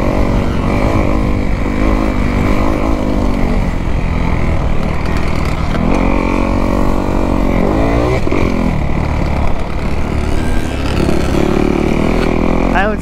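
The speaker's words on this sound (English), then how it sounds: "bike sounds so good." A motocross dirt bike engine runs loud and close on a track, revving steadily with rising and falling pitch. Wind rush and engine drone fill the whole stretch.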